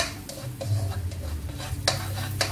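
Garlic sautéing in a pan for a savory porridge breakfast dish, a steady close sizzle of frying with a few stirring scrapes and light clinks of a utensil against the pan.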